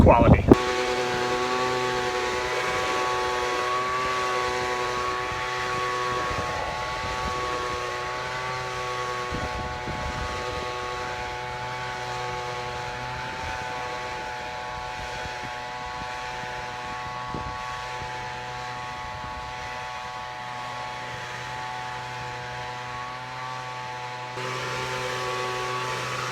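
A leaf blower drones steadily and evenly, clearing grass clippings off a freshly mowed lawn, a long continuous whine heard close by with a few brief thumps.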